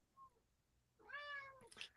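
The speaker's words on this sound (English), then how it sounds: "I just heard a meow." A cat meows once, a clear, mid-close call with a rising harmonic stack and a sharper squeak at the end, heard over low room noise during a live sports-talk stream.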